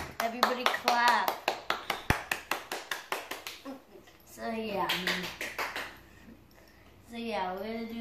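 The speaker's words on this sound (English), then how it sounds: "Everybody clap!" One person claps by hand in a quick, regular series of sharp, close claps that slow and fade out, followed by someone talking over the quiet.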